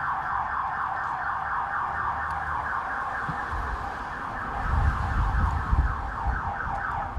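A car alarm warbles continuously in the distance on a street of warehouses and a body repair shop, a steady repeating electronic whoop over low background rumble.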